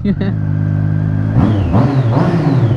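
A Triumph Street Triple motorcycle idles with a steady low hum, then revs sharply in several rising surges, loud and close, after a brief voice at the start.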